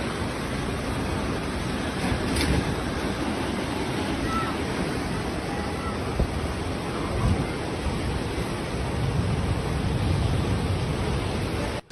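A flood-swollen river rushes through a Chinese village during a deadly landslide and flood, a loud, dense, continuous roar of churning water with wind-like noise throughout.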